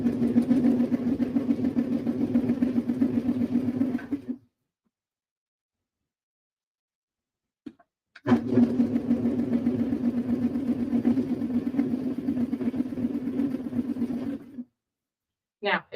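A sewing machine stitches a knit hem in two steady, continuous runs of a few seconds each, separated by a pause of near silence, its motor whirring at a close, even pitch.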